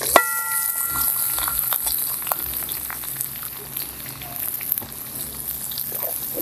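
Curry leaves and finely chopped onion hit hot oil with cumin, crackling and sizzling up close, with scattered pops and spoon-stirring clatter over a steady frying hiss.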